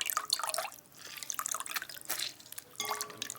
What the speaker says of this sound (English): Cut in half a lemon and squeeze the lemon juice right into the water.